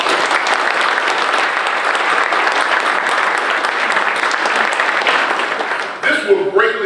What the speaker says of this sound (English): Let's give the fire department another round of applause.